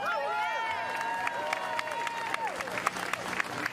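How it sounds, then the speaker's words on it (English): Crowd at an outdoor protest rally in DC breaks into applause and cheering, a steady wash of clapping with raised voices and a few whoops rising over it, fairly close. "Let's give them a round of applause, y'all."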